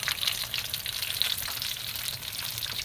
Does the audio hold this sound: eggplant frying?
yes